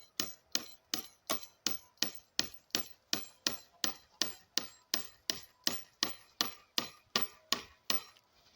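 A hammer drives a maple syrup tap into a tree in North Carolina: around twenty sharp, evenly paced blows in a steady rhythm, close by and crisp, with no voices.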